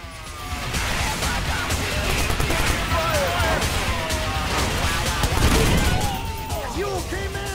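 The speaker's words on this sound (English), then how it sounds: "so many explosions happening at once" Dense, continuous rumble of explosions and gunfire from the video game Watch Dogs, layered with chirping and whooshing effects, loud throughout with a peak near the end.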